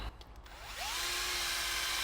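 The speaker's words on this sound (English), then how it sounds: "I am using the drill to mix this." A power drill spins up with a rising whine and settles into a steady high-pitched drone while mixing a batch of epoxy resin for laminating a DIY sailboat frame, loud and close with no talk.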